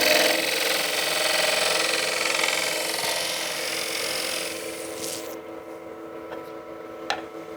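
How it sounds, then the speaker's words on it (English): A scraper cuts a wet wood bowl on a lathe, with a steady, loud rasping, shaving noise and a constant motor hum that carries on until it thins out near the end. "So let's go back to the scraper."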